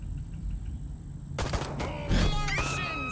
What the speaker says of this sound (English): So I'm unlocking your disintegrator ray. Try it out on the fuzz.